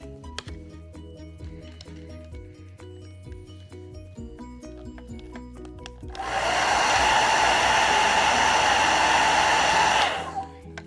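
A handheld heater blows hot air over Jamberry nail wraps, a loud steady whoosh starting midway and running about four seconds before cutting off, after quieter handling clicks and taps.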